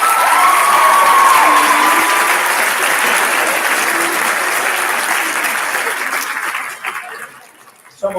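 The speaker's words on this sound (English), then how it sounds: "Y'all give these guys a round of applause." Loud applause and cheering from a crowd at a live-streamed stage event, with whoops and a high shout over dense clapping that gradually thins and fades out near the end.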